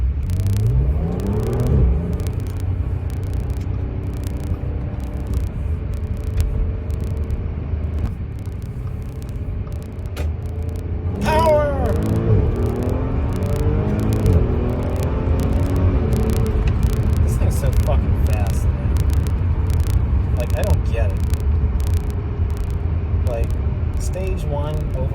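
A supercharged 3.0-litre V6 in an Audi S4 B8 with a stage 1 tune accelerates hard through gear changes, its engine note rising repeatedly over a steady cabin rumble while someone talks throughout.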